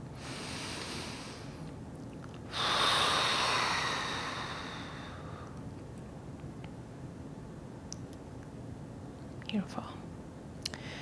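Deep breathing in a gentle, grounding yoga flow: one long, loud breath swells near the microphone and fades away, with quieter soft breathing and small rustles before and after.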